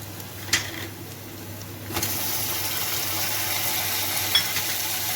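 Chopped tomatoes drop into a pan of fried onions for chole masala, setting off a steady close sizzle with a sharp crackle near the start and another around two seconds in, holding a constant frying hiss with no talking.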